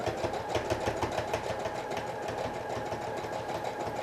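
A sewing machine stitches a pencil skirt, its rapid, steady mechanical chatter running close and continuous with an even rhythm and no talk.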